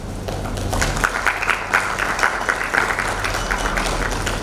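A crowd at a design workshop and hackathon applauds steadily for several seconds, a dense wash of clapping at moderate volume with no talking over it.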